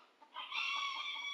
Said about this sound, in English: I think one of my chickens just laid an egg,